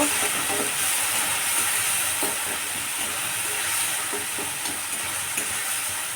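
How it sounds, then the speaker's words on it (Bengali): Turmeric, chili powder and sugar being stir-fried in a pan for kosha alur dom, a dense continuous sizzle with soft scraping stirs throughout. "এবার এটা আমি ভালো করে কষিয়ে নেব।"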